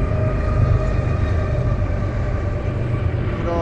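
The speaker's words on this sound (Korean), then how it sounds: "지금 기관차가 10대가 끌고 밀고 가는 거거든요." A long US freight train hauled and pushed by about ten locomotives, seven at the front and three mid-train, makes a loud, continuous rumble and roar close by, steady throughout with no voices.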